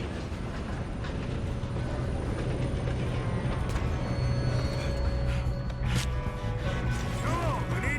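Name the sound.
train running in the video game Red Dead Redemption 2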